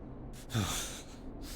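Angry breathing from a character in the video game Killer Frequency: a single sharp, close intake and a huffing exhale about half a second long, rising above a quiet hiss, with no talking.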